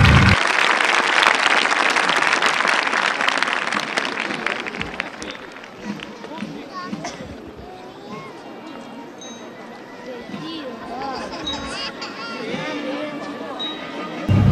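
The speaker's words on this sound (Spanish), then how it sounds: "Ahí están, señores, aplausos de Argentina." An Argentine crowd at the Palermo polo field in Buenos Aires applauds the arriving Chilean Army band. Loud massed clapping and cheering open the moment, then fade into scattered claps and crowd chatter.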